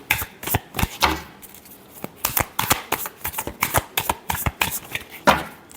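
A deck of tarot cards is shuffled up close in quick irregular bursts of riffling, flapping snaps with short pauses between them, crisp and distinct with no voices over them.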